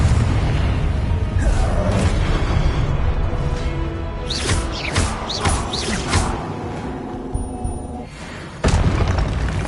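Loud booming spell blasts from the Confringo fire-explosion curse in a Hogwarts wizarding video game, a dense rumbling low end with several sharp whooshing bursts, the last striking suddenly near the end.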